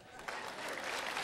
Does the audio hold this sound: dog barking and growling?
no